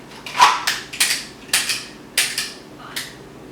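Pistol shots from a fast-draw shooting drill, about six sharp reports in quick succession with short irregular gaps, fairly close and crisp against a quiet background.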